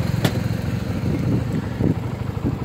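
BMW C400GT scooter circling slowly around a parking lot, its engine giving a steady low drone that swells and eases with throttle, with a sharp click near the start.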